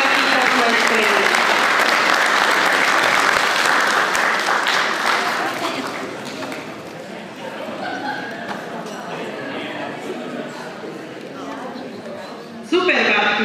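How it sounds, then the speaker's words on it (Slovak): Loud applause from an audience for two elderly ladies, dense clapping that fades after several seconds while a voice speaks over the quieter tail. "Velikánsky veľký potlesk pre nich"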